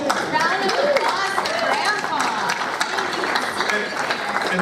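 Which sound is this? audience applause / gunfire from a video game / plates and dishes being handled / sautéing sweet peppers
audience applause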